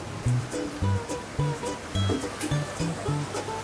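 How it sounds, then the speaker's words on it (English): Water splashing inside a fish farm tank, a steady churning wash with rhythmic low thumps from machinery running beneath it, fairly loud and continuous, with no clear talking. "the water is splashing like that"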